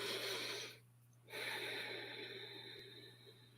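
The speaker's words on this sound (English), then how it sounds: "Let's just take a deep breath together." A slow, deep breath drawn in and let out during a calm relaxation exercise, soft and close, with a short hush in the middle and a faint steady hum beneath.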